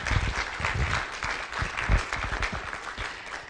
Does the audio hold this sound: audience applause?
yes